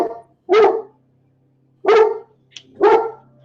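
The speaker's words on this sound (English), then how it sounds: "the gardener decides to come right now, which sets my dog off" A dog barks loudly and close at a gardener arriving outside, three separate deep, harsh barks spaced about a second apart over a faint steady hum, with no talk.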